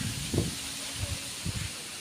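Steady broadband wind noise rushes over the microphone outdoors, with a few low thumps and buffeting gusts, fairly close.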